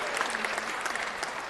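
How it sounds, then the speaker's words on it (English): An audience at a city council meeting claps in a brief, dense burst of applause, close and steady for about a second and a half. "please help me give these ladies a round of applause for their work"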